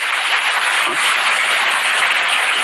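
Rain falls steadily during an unexpected shower, a dense even hiss that is close and loud, unbroken throughout.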